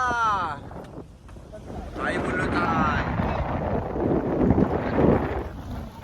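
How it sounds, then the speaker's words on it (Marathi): A strong storm wind roars across the sea around a fishing boat near a rocky reef, buffeting the microphone in a steady rushing wash while people shout over it. "आज वादल आणि वारा खूप आहे"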